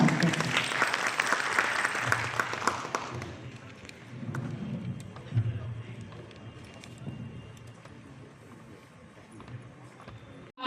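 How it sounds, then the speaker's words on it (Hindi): A crowd at a school event in Vidisha gives loud applause that fades after about three seconds, leaving scattered claps, thumps and room noise. "हम सभी जोरदार तालियों के द्वारा उनका स्वागत करते हैं"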